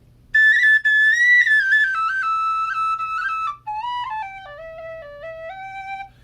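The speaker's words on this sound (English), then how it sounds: "the high whistles from C on up, their tone is like clarified butter" A Goldfinch tin whistle plays a bright, smooth melody in its high register, with clean sustained notes stepping down in pitch over several seconds, alone against a faint low hum.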